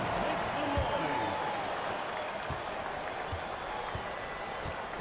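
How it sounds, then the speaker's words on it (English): Crowd applause and cheering for the Celtics fills an arena in a basketball video game, a steady broadband roar with a few ball bounces, while a commentator talks over it. "Please give a big round of applause for your Celtics"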